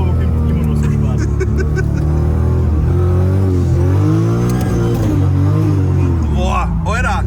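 A 1000 HP turbocharged Toyota Supra accelerates hard on the Nürburgring, its engine note loud and close as it climbs and falls through gear changes, with someone talking excitedly over the roar throughout.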